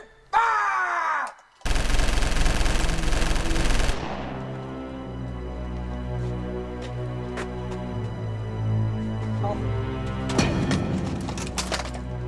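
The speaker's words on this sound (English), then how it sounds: "Fail attempt. Firing squad." A firing squad's gunfire in the video game Codename: YETI, a loud burst of shots followed by a long ringing, droning tail and a clatter of fainter hits near the end.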